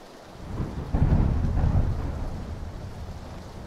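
Rain falls steadily while a low rumble of thunder rolls in and swells, then slowly fades, heard alone without talk.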